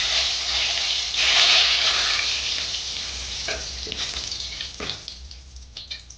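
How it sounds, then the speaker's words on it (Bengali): Whole cardamom, cinnamon and bay leaf sizzle in hot oil in a pan for a coconut chicken, a steady close frying hiss that swells early and then settles, with a few soft stirring scrapes toward the end. "2 মিনিটের মতো এটাকে ভাজবো।"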